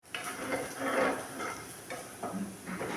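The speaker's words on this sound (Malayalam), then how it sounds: "ഉള്ളി നല്ലോണം നമ്മളിതുപോലെ വേവിച്ചെടുത്തിട്ടുണ്ട്. നല്ലോണം നമ്മൾ ഫ്രൈ ആക്കണം." Onions frying in a pan while being stirred, with a soft sizzle broken by scraping strokes and light clinks of a utensil, close and fairly quiet, no voices.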